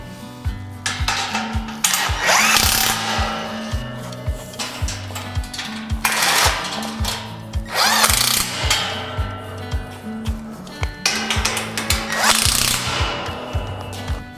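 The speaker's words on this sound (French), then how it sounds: "Je serre mes cornières de renfort." A power tool tightens reinforcement angle brackets on a metal hunting stand, heard as loud, close bursts of ratcheting mechanical clatter repeated about four times, with short pauses between them.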